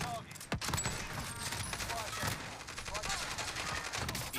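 Rapid rifle gunfire in the shooter game Warzone, dense bursts and cracks running continuously and loudly throughout.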